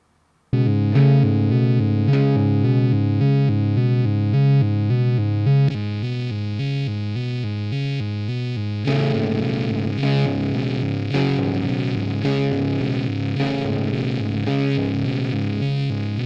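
A simple repeating Moog synth melody blended with electric guitar, both fed through a homemade distortion pedal, forming a loud, dense, fuzzy texture that thickens after a few seconds when the guitar joins.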